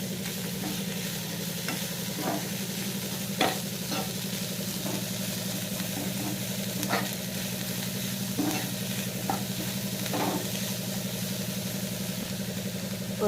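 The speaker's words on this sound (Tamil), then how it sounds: "அவரைக்காய் ஆட் பண்ணிவிட்டு கொஞ்சமாக மஞ்சள்தூள், கொஞ்சோண்டு சால்ட் உப்பு போட்டுட்டு நல்லா வதக்கிக்கோங்க." Broad beans sautéing in a pan with turmeric and salt give a steady low sizzle, with occasional scraping stir clicks from a spatula at irregular intervals, close and moderate in volume, with no talking.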